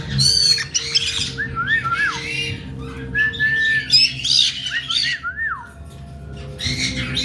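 Harsh parrot squawks and short screeches come in repeated bursts close by, with a low hum underneath and brief pauses between calls.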